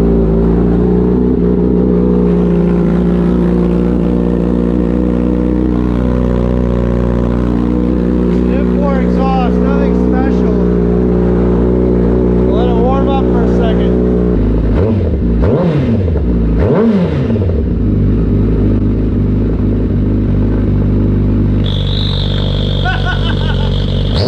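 A Honda CBR 1000 motorcycle cold-starting with an XL turbo exhaust whistle fitted, a loud steady idling engine with brief revs midway and a thin whistling tone rising near the end.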